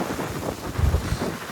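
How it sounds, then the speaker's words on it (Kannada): Strong monsoon wind buffets the microphone on a motorcycle ride in the rain near Ankola, a loud, rumbling low roar that surges and gusts throughout, with no voices heard. "ಗಾಳಿ ತುಂಬ ಹೆವಿ ಬರ್ತಿದೆ"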